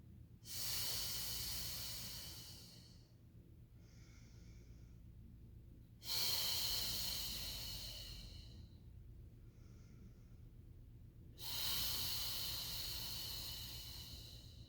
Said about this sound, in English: 3 more nice deep breaths.